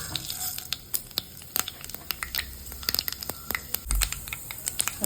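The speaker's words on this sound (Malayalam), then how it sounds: "എണ്ണ ചൂടായിട്ടുണ്ട് ഇതിലേക്ക് കടുക്" Mustard seeds splutter in hot sunflower oil, giving a quick, irregular run of sharp pops and crackles over a low sizzle, close and fairly loud.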